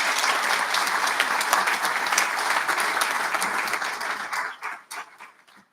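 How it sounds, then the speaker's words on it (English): Audience at an all-Ireland confined drama final applauds a committee with dense, sustained clapping that fills the room before tapering off into scattered claps near the end. "So a big clap for our committee, they're down there."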